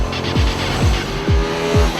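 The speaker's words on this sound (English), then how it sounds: "At the heart of the matter is the familiar 250cc V-twin air and oil-cooled engine." A 2012 Hyosung Comet R with a fuel-injected 250cc air- and oil-cooled V-twin revs repeatedly, four rising-and-falling throttle blips in quick succession, loud and close.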